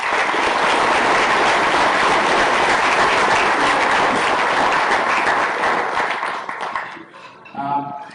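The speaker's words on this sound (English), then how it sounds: "So can you a big round of applause for that?" An audience at an evening award event for a sale applauds, a loud, dense burst of clapping that holds steady for several seconds, then thins out and fades, with a voice starting up at the end.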